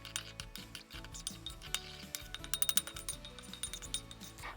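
Milk, sugar and yeast being mixed in a bowl, with a busy run of light clinks and scrapes of a utensil against the bowl over a faint background hum, fairly quiet and close.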